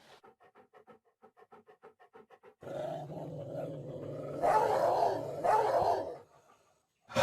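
A dog growls and snarls close by, rough sustained bursts swelling louder in the middle, preceded by a faint rhythmic scratching pattern and ending in silence.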